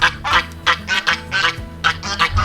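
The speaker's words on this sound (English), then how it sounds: "Oh, the geese." Geese in a garden honking loudly and close by, a rapid run of about eight harsh, nasal calls in quick, uneven succession, with no voices.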